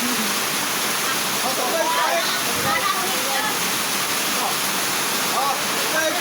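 Rushing water pours loudly and continuously nearby, a dense roar like a waterfall or fast stream, with faint voices partly buried beneath it.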